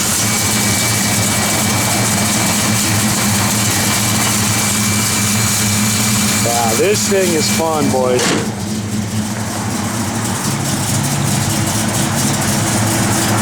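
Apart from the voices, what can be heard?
1956 Ford Customline hot rod engine idling with cam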